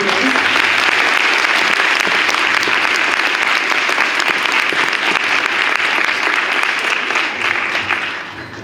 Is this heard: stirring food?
no